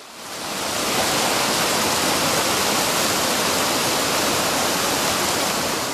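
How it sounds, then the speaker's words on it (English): Couts Creek water spilling over a road on the Wonderland Trail, a steady broadband rushing roar of flowing water that swells in over the first second and then holds constant, with no voices. "Just up the road, it emerged from the trees, spilling over the road."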